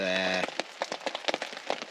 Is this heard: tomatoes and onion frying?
no